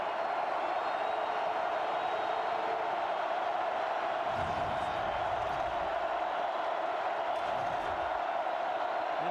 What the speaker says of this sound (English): The student section is loud across the way.